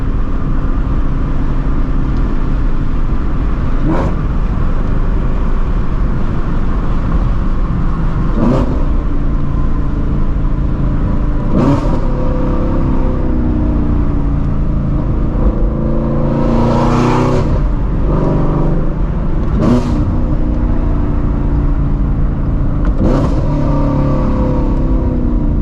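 A Ford Shelby GT350 engine accelerating hard with loud, continuous roaring exhaust and repeated revs and upshifts, heard close and dominant throughout without talking.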